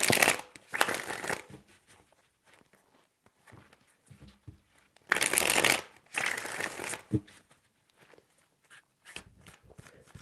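A deck of tarot cards is shuffled by hand in several bursts of rapid riffling and flicking, loud and close, separated by quieter stretches of soft card handling.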